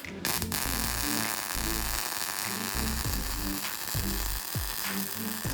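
A Yeswelder MIG-205DS hobby MIG welder runs a steady pulling-technique bead, giving a continuous loud crackling buzz with a sizzling hiss throughout and short rhythmic bursts of low crackle.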